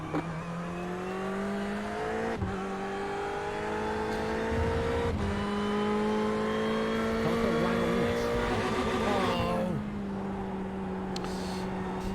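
Race car engines in the iRacing sim drone at a steady high pitch, rising and falling through gear changes with a few sharp shifts and another car's engine passing alongside, close and continuous.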